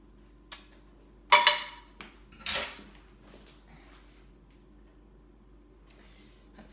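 A utensil scrapes béchamel sauce out of a pan in a few sharp clanks and scrapes over the first three seconds, then quieter faint taps against a low background hum.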